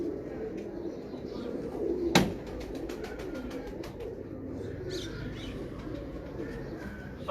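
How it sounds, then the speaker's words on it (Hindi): Sialkoti pure bateray pigeons coo softly and steadily in a loft, with a sharp knock and some fluttering and clicking about midway. "प्योर बटेरा कबूतर कोई।"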